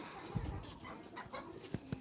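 Pigeons kept with hens: low, soft cooing and a few short murmured notes, faint and close, with light rustling in between.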